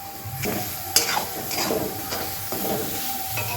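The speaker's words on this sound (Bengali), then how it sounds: "এবার দেখো আমি এর মধ্যে দিয়ে দিচ্ছি কুচুনো দুটো লঙ্কা" Two chopped green chillies go into a hot pan for a Bengali cauliflower paratha recipe, setting off a steady close sizzle with stirring scrapes and a sharp clatter partway through.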